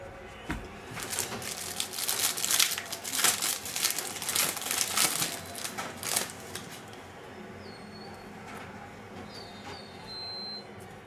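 Foil Panini Phoenix trading card packs are torn open, giving a dense run of crinkling and tearing from about one to six seconds, followed by quieter shuffling of cards.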